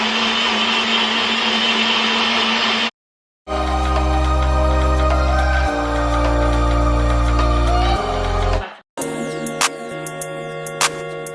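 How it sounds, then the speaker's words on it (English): A NutriBullet blender whirring loudly through a cherry shake in bursts, the motor pitch shifting as the contents churn, with brief stops between runs. "I'm gonna be using a NutriBullet today, but if you don't have it, you can use regular mixer"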